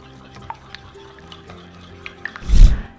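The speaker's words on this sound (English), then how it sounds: "then we'll just whisk all of our wet ingredients together" Wet ingredients, plant milk and vanilla, whisked in a bowl for gluten-free paleo carrot cake muffins: faint scattered clinks of the whisk against the bowl, then a short, louder burst of stirring near the end.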